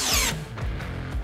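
A Bauer power drill strains and bogs down while drilling, its high whine cutting off into a low, labored grinding with sputtering pulses, loud and close, with no speech.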